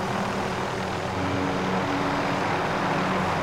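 A video game helicopter in flight gives a loud, steady rotor and engine drone that holds unbroken throughout.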